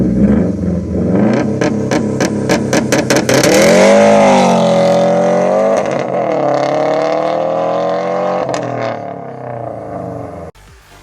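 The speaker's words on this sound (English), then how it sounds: "here's a clip of a Subaru WRX launching its nuts off" A Subaru WRX launches hard: a loud, close engine revs in quick blips, then climbs through a long accelerating pull with rising and falling pitch before easing off near the end.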